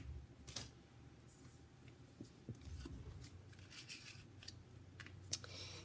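Scissors cut a white stitched paper rectangle for a coral and pink mum collage card, giving faint, sparse snips and paper rustles in a quiet room.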